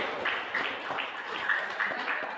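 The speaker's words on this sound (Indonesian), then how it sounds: "Sekali lagi tepuk tangan untuk kita semua." Students in a classroom clap briefly, a soft, uneven patter of hands at moderate distance with a few distinct claps and faint voices mixed in.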